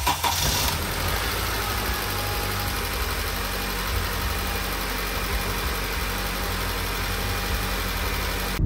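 A 2007–2012 Acura RDX engine, just back together after a valve adjustment, runs at a steady, loud idle close by, with a continuous droning rumble and no voices.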